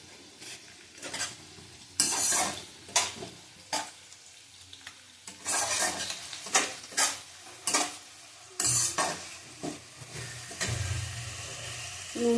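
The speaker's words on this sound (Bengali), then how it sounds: "এবার টমেটো কুচি দিয়ে দিলাম।" Chopped tomatoes hit a hot pan for a Bengali milk chicken curry, giving bursts of sizzling and frying, with repeated clinks and scrapes of a spatula stirring against the pot, loud and close.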